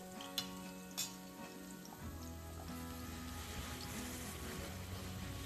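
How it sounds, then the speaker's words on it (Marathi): Crushed garlic sautéing in hot oil in a pan, a steady close sizzle and crackle with a few sharp pops near the start, continuing without talk. "त्यामध्ये हा ठेचलेला लसूण, जरा अर्धा मिनिट लसूण जरा परतून घ्यायचंय"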